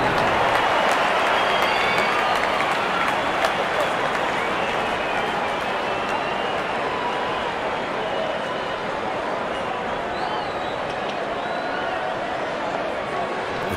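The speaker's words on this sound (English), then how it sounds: "The crowd is enjoying every bit of this action." Large crowd at a Pakistan vs England T20 cricket match in a stadium, producing a steady, dense roar of cheering and applause that holds at an even level from start to finish with no pauses.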